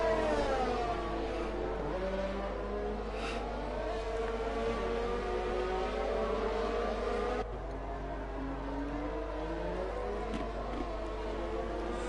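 Formula-style race cars in a Grand Prix racing video game at Brazil, their engines droning and whining steadily with rising and falling pitch as cars pass, continuous and fairly loud, no talk.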